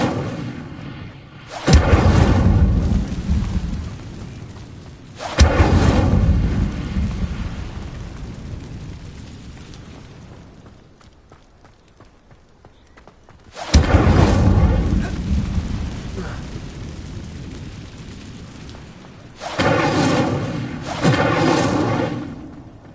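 Incendio fire spell from Hogwarts Legacy, cast in several loud, heavy whooshing blasts with roaring tails, separated by short lulls, with a pair of quicker bursts near the end; no talk over it.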